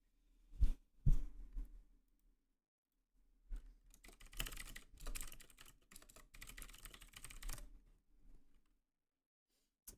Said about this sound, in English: And I'm going to be typing.